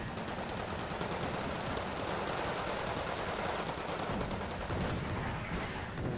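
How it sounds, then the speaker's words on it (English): Dense, continuous gunfire from an open field firefight in the war strategy game Wargame Red Dragon, rapid machine gun bursts and shots blending into a loud, unbroken roar without voices. "They're just doing a long range, open field firefight."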